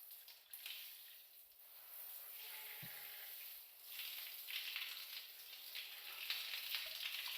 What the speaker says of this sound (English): That's the shower going.